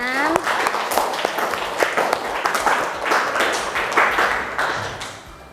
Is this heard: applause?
yes